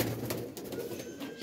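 A purebred pigeon from a breeding pair coos close by in a soft, continuous, low rolling murmur, with no other sounds around it.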